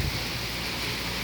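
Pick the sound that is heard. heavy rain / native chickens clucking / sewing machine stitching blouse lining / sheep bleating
heavy rain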